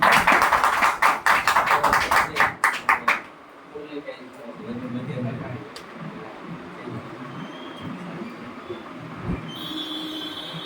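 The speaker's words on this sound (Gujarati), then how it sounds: "તો આપની જોરદાર તાળીઓથી હું જસુભાઈને ઇન્વાઇટ કરીશ." An audience at an RCM business live meeting claps for about three seconds, a close, sharp burst of applause that fades into a quieter hall with low murmuring.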